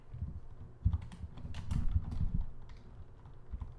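Keys clack on a computer keyboard while code is entered, a short quiet burst of uneven taps and a few heavier presses, close and alone.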